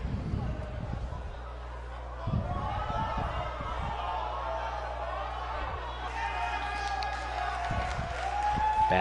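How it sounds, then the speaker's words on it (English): A wrestling arena crowd roars and cheers for the wrestler Nightmare, a dense sustained wash of noise with an announcer talking over it and rising toward the end. "Basking in the adulation of the crowd here"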